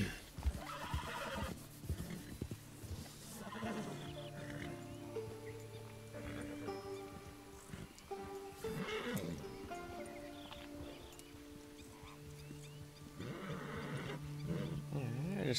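A horse whinnies and snorts repeatedly over a busy game soundscape with music-like tones and steady background noise, fairly loud and close, in Red Dead Redemption 2.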